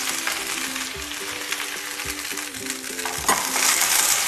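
Masala bhindi (okra) frying in a pan and being turned over, with a steady close sizzle and soft scraping stirs throughout, a sharper clink near the end.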